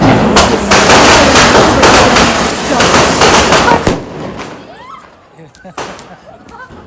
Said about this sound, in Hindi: गन वाला पटाखा मुझे बहुत पसंद है।